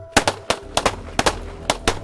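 Handgun shots fired on command during pistol training, a rapid string of about ten sharp, loud cracks in quick pairs and bursts, close by and alone.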